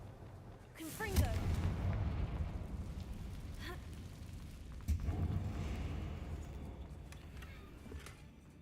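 A Confringo fire spell explodes twice in Hogwarts Legacy, each blast a sudden booming burst followed by a rumbling tail. Faint game ambience carries between the two impacts.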